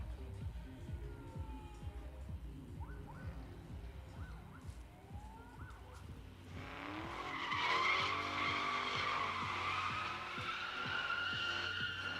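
A Ford Mustang GT drifting at a drift pit rumbles at a distance before its tires break into a loud, sustained squeal that swells and holds for several seconds.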